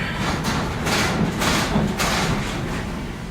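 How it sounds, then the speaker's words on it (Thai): A steady low rumble with repeated dull thuds as a Swiss train begins to roll, continuous and fairly loud with no voices. "ไปแล้วค่ะรถไฟเคลื่อนขบวนแล้ว"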